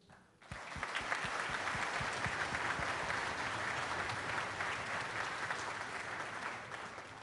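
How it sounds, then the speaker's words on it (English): A crowd breaks into loud, sustained applause for a band's percussion section that starts suddenly and stays steady and dense throughout. "I wanted to give another special round of applause for our percussion section"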